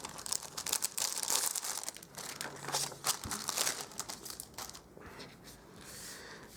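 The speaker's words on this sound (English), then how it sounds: "I'm going to run this through my Big Shot with the Corrugated Dynamic Embossing Folder" Card passes through a Big Shot die-cutting machine with a corrugated dynamic embossing folder, making close crinkling, crunching and creaking sounds that rise and fall over several seconds with a faint thump partway through.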